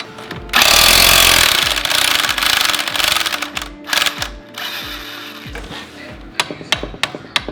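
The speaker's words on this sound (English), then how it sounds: "then we'll cut a relief cut in the sleeve and chisel out the sleeve" A chisel hammers out a rear control arm bushing sleeve on a Lexus IS300, opening with a loud sustained rattling burst, then breaking into shorter, choppier bursts and scattered metallic knocks.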